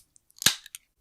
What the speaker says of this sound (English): is just a fizzy drink being opened.